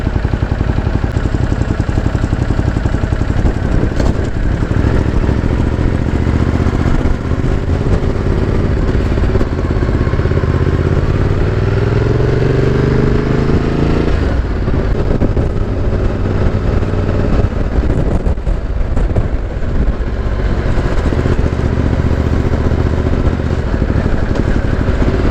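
A motorbike ride through Southport, its engine rumbling steadily up close under heavy wind noise, with rising revs as it accelerates and brief clatter.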